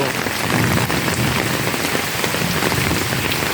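Heavy rain pours steadily on the ground and nearby surfaces, a loud, dense, unbroken patter heard close all the way through, with no voices.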